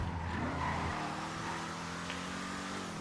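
A car engine in GTA 5 revving hard as the car launches into a wheelie, a sustained, steady engine drone that stays close and even across the whole moment, with no voices.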